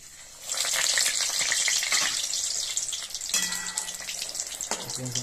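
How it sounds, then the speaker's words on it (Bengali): A papad fries in hot oil in a wok over a low gas flame, giving a loud bubbling sizzle that swells at once and then settles into steady crackling, with a soft clink partway through. "আমি একটা একটা করেই ভাজছি"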